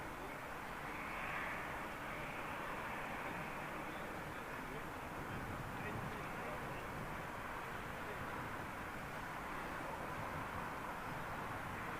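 A jet airliner departing London Heathrow Airport produces a steady broadband engine roar that stays constant and moderately distant throughout, with no speech.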